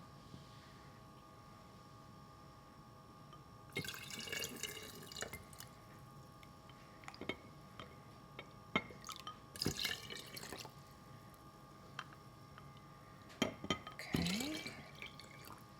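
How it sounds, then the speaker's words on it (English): Brewed kombucha tea is poured into jars in short bursts, liquid splashing and trickling against glass with quiet gaps between pours; a voice speaks briefly. "here I've got our new brewed tea. And we're going to add it to our jars"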